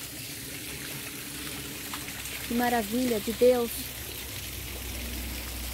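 Roadside spring water runs from a pipe beside a highway in the forested hills near Poços de Caldas, a steady outdoor trickle and splash that continues while someone briefly speaks over it.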